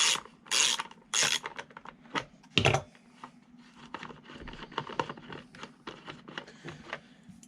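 Screws are backed out of the rear housing of a Poulan string trimmer with a ratcheting tool, giving several loud bursts of clicking followed by lighter, quicker ticking and small mechanical rattles, close up and without speech.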